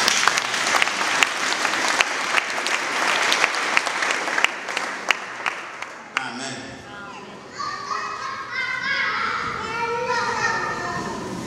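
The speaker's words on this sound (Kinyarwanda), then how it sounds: "Mukomere Imana amashyi" A church congregation claps in dense, rhythmic applause for about six seconds, loud and close, before it stops and a voice begins speaking over the room.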